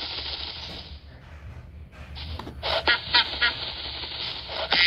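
Ducks in the Minecraft video game make a few quick quacking calls in short bursts over a busy, noisy game background, fairly loud and close.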